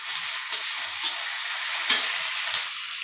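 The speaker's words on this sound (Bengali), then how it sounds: "লগে দিলাম পেঁয়াজ, কাঁচা লঙ্কা বাটা, লগে দিম পেঁয়াজ বাটা," Onion paste and green chili paste sizzling in hot oil in a pan while Malabar spinach chorchori is cooked, a steady close hiss broken by a few soft stirring clicks.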